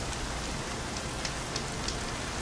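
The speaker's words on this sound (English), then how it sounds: "There's really heavy rain in the game, which I like." Heavy rain in the Horizon Zero Dawn video game pours in a steady, dense hiss with faint scattered drops, continuous and without talk.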